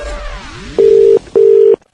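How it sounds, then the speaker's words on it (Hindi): A telephone dialing for a call-in radio show: a falling rush of dial tones, then two loud, steady ringback tones with a short gap between them, clear and close with no talk. "मैंने एक लेडीज को फोन मिलाया था।"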